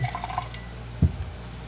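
Liquid is poured off a jar of cucumbers, giving a brief close splash and drip about midway through the clip against a quiet background.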